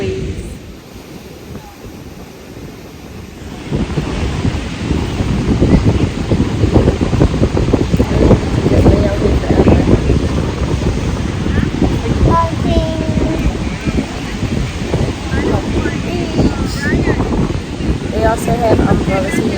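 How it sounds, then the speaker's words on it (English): Ocean surf rolls onto a breezy Florida beach, with heavy wind buffeting the microphone; the waves crash loudly and continuously after a quieter opening few seconds. "Let me show you the waves."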